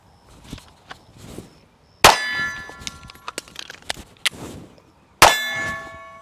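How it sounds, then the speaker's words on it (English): Pistol magazine being reloaded and handled, giving two sharp metallic clangs with ringing tails, several lighter clicks and taps in between, close and loud with no talking. "So let's load back up and let's do some more of the reloading."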